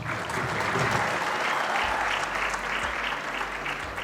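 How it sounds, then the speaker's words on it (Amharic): Audience applause fills a film premiere hall, steady dense clapping from a crowd lasting the full four seconds at an even, fairly loud level with a low rumble underneath. "ጭብጨባ ነው።"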